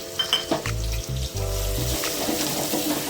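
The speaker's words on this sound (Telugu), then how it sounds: "ఇప్పుడు ఆయిల్ బాగా ఆగిన తర్వాత ఇందులో ఉల్లిగడ్డలు వేసుకుందాం" Onions frying in hot oil, a steady soft sizzle with a few quick stirring scrapes and knocks in the pan.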